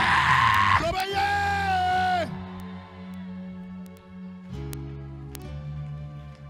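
Church congregation shouting with raised hands at a French-language worship service, a loud burst of massed yelling that swells then falls away into a sustained tone and lower voices.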